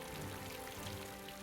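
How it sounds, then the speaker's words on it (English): Torrential acidic rain pours down in a dense, steady hiss, a continuous heavy downpour with no break and no voices. "creating torrential rainfall"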